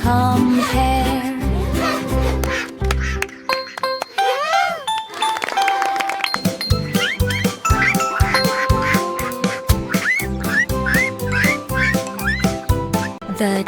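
Cartoonish duck quacks repeat over a bouncy musical backing, with short squeaky calls recurring rhythmically through the second half.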